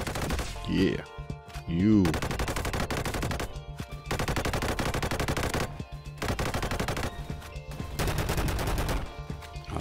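A Honey Badger energy assault gun fires in a video game, loud rapid automatic bursts separated by short pauses, with a player talking briefly between volleys.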